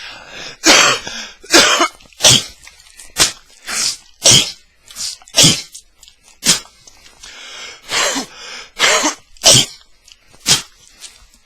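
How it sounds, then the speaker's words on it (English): A man coughs repeatedly in harsh, bursty fits, about a dozen loud close coughs separated by short pauses. "Because I cough, okay?"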